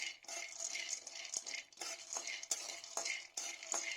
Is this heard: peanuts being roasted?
yes